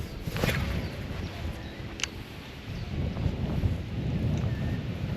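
Strong wind buffets and rumbles across the microphone in continuous gusts while fishing, loud and close, with occasional sharp knocks.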